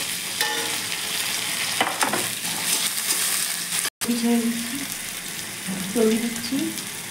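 Onions fry in a pan with a steady sizzle while being stirred, the crackle close and continuous, and a voice briefly speaks over it.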